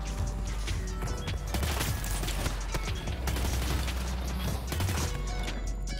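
Full-auto weapon fire in the shooter game Battlefield 2042, a dense, unbroken stream of rapid gunshots and mechanical clatter, loud and continuous throughout.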